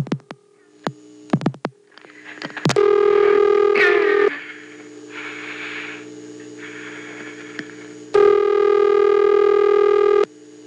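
Telephone dialing tones on an old line: a few sharp clicks, then a loud steady tone, a pause with softer tones, and another loud steady tone near the end.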